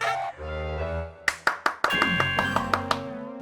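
Audience clapping on an Indonesian TV variety show: about five sharp, close claps in quick succession, followed by a few lighter claps over a sustained musical tone.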